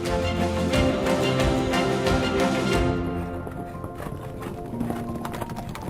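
Horses walking during a ride on a horse safari, dense clip-clop of hooves with jingling tack and rustle, loud and close at first then easing off, no talk.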